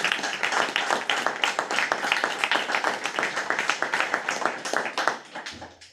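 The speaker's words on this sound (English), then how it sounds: "I'm doing another round of applause because you deserve it." A round of applause at a board of education meeting, with a modest group clapping briskly and fairly close in an uneven, rapid patter that tapers off and stops.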